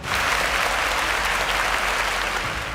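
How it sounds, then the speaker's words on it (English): Steady, dense applause from a quiz show audience, loud and sustained throughout with no talking over it. "A round of applause for Oreva."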